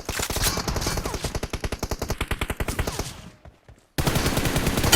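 Rapid automatic gunfire in BGMI team deathmatch, a fast regular burst of shots that fades away, a brief pause, then another loud burst.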